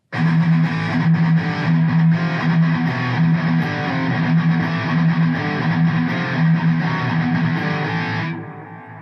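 A heavily distorted electric guitar plays a sustained djent riff with sliding notes, loud and steady, then cuts off abruptly near the end.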